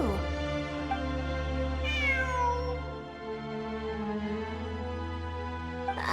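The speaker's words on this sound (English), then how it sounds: "It really is a cat." A cat in Genshin Impact lets out a long, clear, drawn-out meow with a rising and falling pitch, loud and close over a sustained tonal game music backdrop, with no speech.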